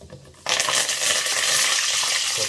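Chana dal and cashews hit hot oil in a pan for cabbage capsicum khara bath, a sudden loud sizzle bursting in after a quiet moment and holding steady, with faint stirring underneath.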